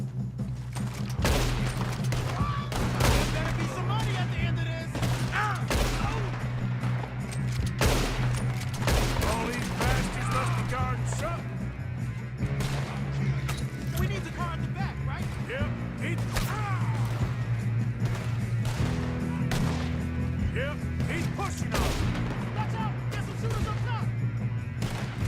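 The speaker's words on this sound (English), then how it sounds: "Don't shoot Lenny" Near-constant gunfire rattles through a Red Dead Redemption shootout, with sharp rifle and pistol cracks firing in quick, irregular succession over a steady low background, as voices talk intermittently.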